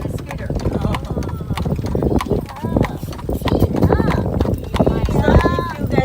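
Hooves of an Amish buggy horse clip-clop in a steady trotting rhythm on the road in Bird-in-Hand, Pennsylvania, close and continuous beneath people talking.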